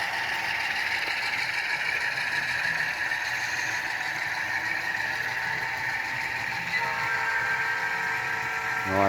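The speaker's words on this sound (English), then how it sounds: "I like that whistle on that thing." A steady, high whistle from an HO scale model locomotive sounds continuously, loud and close, with a brief layered chime-like horn tone entering near the end over rumbling background.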